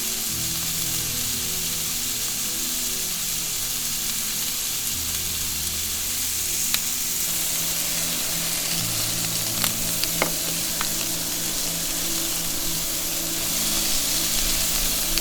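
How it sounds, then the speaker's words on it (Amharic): Steady, loud sizzling of meat being fried for tibs in a hot pan, a continuous crackle with a few sharper pops partway through, no voices. "አሁን ስጋ ጨምረን እንጠብሳታለን።"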